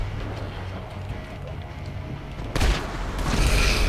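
Gunfire erupts at a GTA 5 military base: a low rumbling background gives way to a sudden loud boom and a sustained burst of shots that stays heavy and close until the end.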